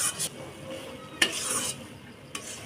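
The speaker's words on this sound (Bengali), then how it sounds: "ভালো করে ঘেটে নিতে হবে।" A spoon stirs rice flour, milk and jaggery in a pan for a sweet, giving a few soft scraping strokes with sharp clinks against the metal, close and fairly quiet.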